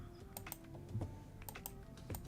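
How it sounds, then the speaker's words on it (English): Rapid keystrokes on a computer keyboard, irregular clicks and clacks in short bursts with small pauses, fairly close and clear with no talking. "Well, Mousy's typing."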